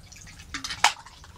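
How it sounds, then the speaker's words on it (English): A little water poured into an 8-ounce metal Scout cup from a bottle: one brief bright splash and trickle, close and fairly quiet, with no talk. "I'm going to go ahead and put just a little bit of water in there"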